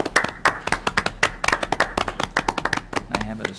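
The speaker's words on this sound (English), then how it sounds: "Let's give them all a round of applause." Applause breaks out at a school district regular board meeting, a modest group clapping in quick, uneven bursts for about three and a half seconds, fairly close and dry, with a voice briefly audible at the end.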